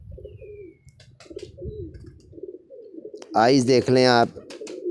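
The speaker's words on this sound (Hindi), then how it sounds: "पूरा फिर बच्चे उड़ा रहा है ये कबूतर, और जोड़ा ही उड़ा रहा है।" Pigeons coo in soft, repeated low murmurs close by, and someone talks over them.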